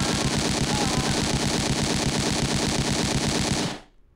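Sustained automatic gunfire from a full magazine being emptied in the video game Silent Storm Sentinels, a dense, loud, unbroken burst lasting several seconds before cutting off abruptly.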